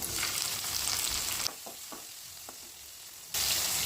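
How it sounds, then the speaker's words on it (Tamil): Tomato sautés in a pan with mustard seeds, black gram, shallots and curry leaves, giving a loud, close sizzle. The sizzle drops away for about two seconds, leaving a few soft stirring scrapes, then comes back strongly. No one speaks. "தக்காளி நல்லா வதங்கிடுச்சு"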